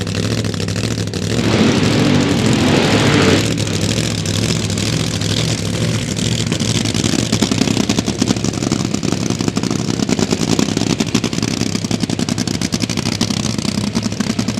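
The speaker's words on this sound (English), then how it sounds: "Gambler, 69 Camaro, that's Brad Anderson Engineering Hemi" A nitro Hemi-powered 1969 Camaro funny car at a drag strip test session, its engine roaring loudly and continuously with a rough, crackling rumble at close range.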